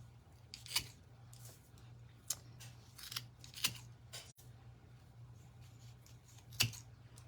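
Scissors snip excess rope off a braided rope wreath, a series of close, sharp, crisp cuts spaced irregularly over a faint steady hum, with no talking.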